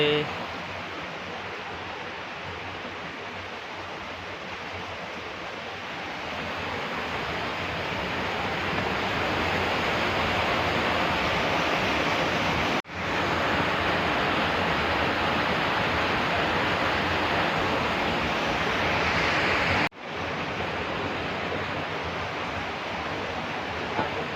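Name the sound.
flowing water inside cave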